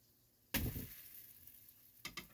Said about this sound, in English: warm them back up in your cast iron fry pan, because you melt a little bit of butter